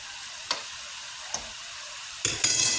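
Plantains fry gently in a pan on a low stove, a quiet steady sizzle broken by a few soft clicks of stirring, then a louder scrape and fizz as the slices are moved.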